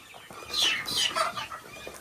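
Young chickens, growing chicks in a barn, give a few soft clucks and chirps, close and fairly quiet, with no talking over them.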